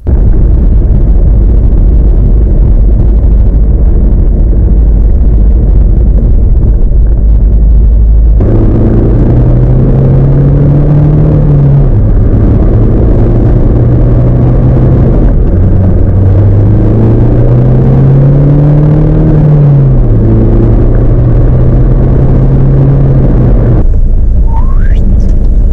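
A diesel car idles with a loud, steady engine rumble, then pulls away, its engine note rising and falling through gear changes in a close, continuous drone.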